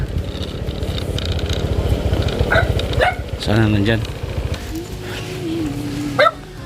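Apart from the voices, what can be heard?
dog barking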